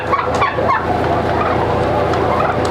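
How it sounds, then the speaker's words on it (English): A flock of chickens at a home egg farm, including a Bielefelder hen, keeps up dense, overlapping clucks and gobble-like calls close by, continuous and fairly loud with no talk. "This is our one Bielefelder hen right here."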